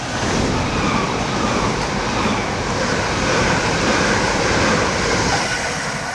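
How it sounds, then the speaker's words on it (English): A pair of Great Western Railway class 387 electric units rushes past at close range, a loud, steady broadband roar of wheels and air holding for several seconds with no voices. "the train to pass by is going to be a pair of Great Western Railway 387s bound for Didcot Parkway"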